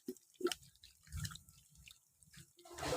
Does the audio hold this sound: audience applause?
no